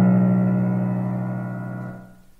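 Two low sustained tones a whole step apart, around 110 and 123.5 Hz, sound together and clash in a steady dissonant beating that slowly fades and dies out after about two seconds.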